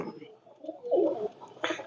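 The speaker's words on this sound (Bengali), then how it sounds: "এই জিরা গোল্ডেন গুলো মার্শাল্লাহ অনেক অনেক ফার্স্ট ক্লাস কবুতর" Jira Golden pigeons cooing softly at close range, a few low throaty coos in quick succession with a brief brighter call near the end.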